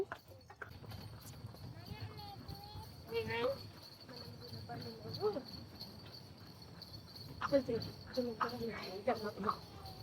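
Steady clip-clop of hooves from a horse-drawn cart carrying passengers at a resort, with people talking over it and insects chirping faintly.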